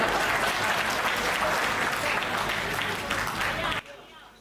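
Loud, dense audience clapping at a Hindi comedy or poetry stage show fills the hall steadily for nearly four seconds, then cuts off abruptly.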